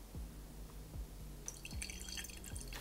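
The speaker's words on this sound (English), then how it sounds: "Let's pour this." Homemade mead of tamarind, hibiscus, cinnamon and orange poured from a bottle: a few separate plopping drips at an even pace, then a brighter splashing trickle into a glass, close and fairly quiet.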